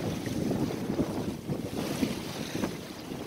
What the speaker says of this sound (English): Hold on, big cabin cruiser, big wake.